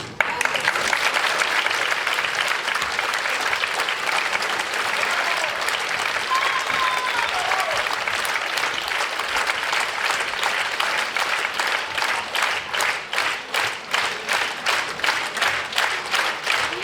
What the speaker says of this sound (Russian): Спасибо за ваши аплодисменты.